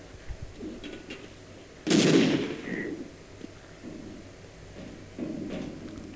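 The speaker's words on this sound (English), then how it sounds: "No, don't use 2 grenades." A grenade blast in the video game Half-Life bursts out sharply mid-way, followed by a rumbling decay, with scattered softer thuds of gunfire before and after.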